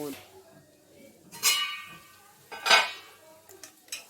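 Metal lid set onto a cooking pot of chicken with chickpeas: two clear clanking knocks a second apart, then a lighter clink, with a quiet kitchen background and a voice in between.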